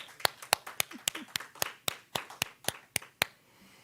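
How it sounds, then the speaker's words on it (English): A small audience applauds after a speaker's introduction, with sparse, distinct claps in an uneven rhythm that fade out after about three seconds, close and moderately quiet. "Let's give her a big round of applause"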